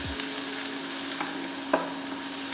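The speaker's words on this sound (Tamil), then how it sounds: "கட் பண்ணி வச்ச வெங்காயம் போட்டு நல்லா வதக்குறோம்" Chopped onions sizzle in a pan over a low flame, a steady close frying hiss with a single sharp spoon knock partway through.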